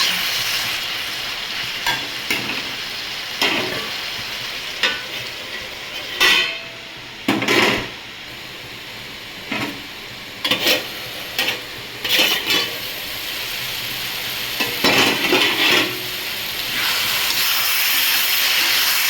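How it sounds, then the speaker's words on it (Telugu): Tomatoes stewing under a lid in a pan give a steady, close, broadband hiss and steamy sizzle that runs continuously, with a few louder sputtering bursts rising and fading along the way. "టమాటాలు అయితే మగ్గుతున్నాయండి"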